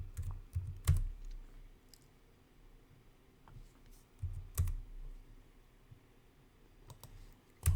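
Scattered clicks and short bursts of keys on a computer keyboard while drafting in AutoCAD, quiet and close, with several brief clusters of taps separated by pauses.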